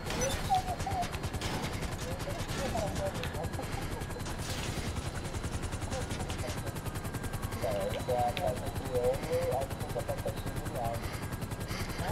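Helicopter in Grand Theft Auto V, a steady rotor thrum and engine drone running throughout with rapid gunfire bursts layered over it, while people talk intermittently.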